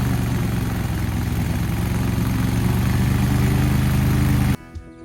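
A zero-turn mower engine fitted with a mulch kit drones steadily and loudly at less than full throttle, bogging under load, then cuts off abruptly near the end, leaving quiet.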